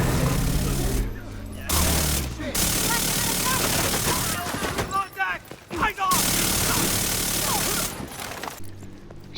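Rapid automatic gunfire from The Division 2 rattles in dense sustained bursts with brief gaps, mixed with game effects and a voice talking over the action.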